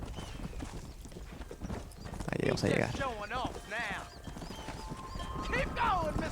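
Horse hooves clip-clopping at a steady pace in the video game Red Dead Redemption, with a horse whinnying and someone speaking over the hoofbeats.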